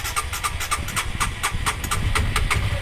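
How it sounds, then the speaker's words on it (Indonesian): Honda CB150R motorcycle engine idling low on nearly empty fuel, a steady close rumble with quick regular pulses throughout. "Mesinnya halus"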